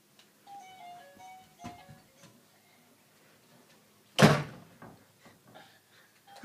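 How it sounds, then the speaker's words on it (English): A house door is shut once with a single sharp, loud thud. Quiet indoor sounds and faint soft noises come before and after it. "I'm shutting the door."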